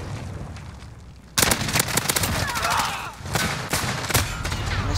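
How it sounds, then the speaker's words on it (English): Rapid M4A1 rifle fire in Modern Warfare, a dense stream of sharp close shots that kicks in after a quiet first second and keeps going in bursts until the end. "I missed so many shots there"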